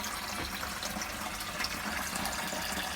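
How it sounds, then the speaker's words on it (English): Water runs steadily through the copper coils of a homemade twin-coil immersion chiller during a leak test, a constant hiss and rush of flow with no change in level. "Okay, so I've got some water running through that now to test it out."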